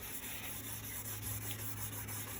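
Steel wool rubbed over a surface on a 1993 Suzuki GSX-R 750 to clear the last adhesive residue, a soft steady scrubbing hiss at low level, close and continuous with no speech.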